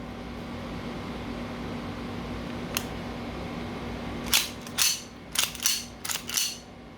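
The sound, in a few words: Cybergun Colt 1911 rail airsoft pistol firing, metal click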